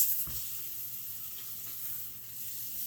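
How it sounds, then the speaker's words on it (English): Steak sizzling in a hot pan just after being flipped, a steady soft hiss of frying fat with a faint clunk at the start, close and quiet. "let's flip that steak over"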